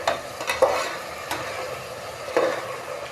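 Tomato fries in a pan, a soft sizzle underneath a few distinct stirring scrapes and knocks of a spoon against the pan, spaced irregularly across the short stretch.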